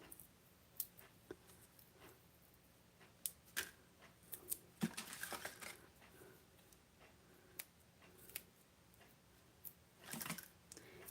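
Scissors snip through paper for a papercraft project, several short, quiet cuts scattered irregularly among faint rustles and clicks in a quiet room.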